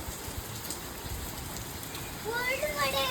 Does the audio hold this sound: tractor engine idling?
no